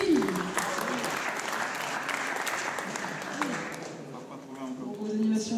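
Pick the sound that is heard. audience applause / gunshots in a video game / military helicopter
audience applause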